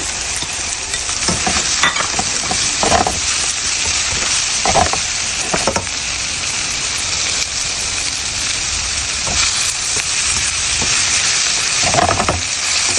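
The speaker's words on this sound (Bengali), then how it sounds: "আমি এর ভিতরে এখন ক্যাপসিকাম দিয়ে দিচ্ছি" Capsicum frying in a pan of spiced egg curry gives a steady, loud sizzle throughout, with occasional scraping stirs breaking through the dense crackle.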